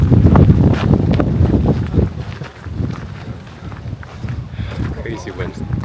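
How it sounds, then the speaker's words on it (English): Strong wind buffets the microphone in a sunny garden in Munich, a loud, rough, low rumble that swells and eases throughout, with voices partly masked beneath it. "Crazy wind."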